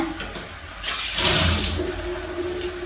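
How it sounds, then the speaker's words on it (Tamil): Tamarind water is poured into a simmering Jaffna-style crab curry, a soft close splashing and trickling of liquid that swells in the middle and then tapers off. "இந்த ஸ்டேஜில் என்ன செய்யணும்னா புளி விட போகிறேன்"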